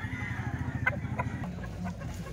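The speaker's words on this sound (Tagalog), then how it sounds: "Marami daw siyang ganitong manok sa bahay nila." Chickens cluck softly nearby in a few brief calls over a steady low mechanical hum and background noise.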